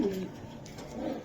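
Racing pigeons coo softly and close by, a low murmuring call with faint rustle behind it.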